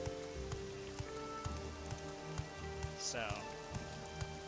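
Steady rain falls in Morrowind, a continuous hiss of drops on surfaces with faint periodic ticks, while a person speaks briefly.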